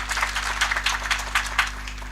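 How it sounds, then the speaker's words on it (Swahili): An audience at a Laikipia University graduation ceremony claps for performing artists. The applause is moderate and somewhat distant, a steady patter over a low electrical hum. "Tuwapigie makofi tena."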